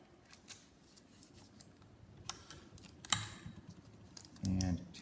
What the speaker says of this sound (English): Tape it here.